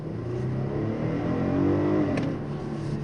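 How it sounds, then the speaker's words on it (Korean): A Kia K9 sedan with a 315-horsepower naturally aspirated gasoline V6 accelerates hard under a deep press of the throttle, its steady engine drone climbing in pitch as revs rise toward the limit. "이렇게 가속 페달을 깊게 밟아주면 RPM을 끝까지 올려가면서 시원스럽게 뻗어가 나가는 모습들을 볼 수가 있죠"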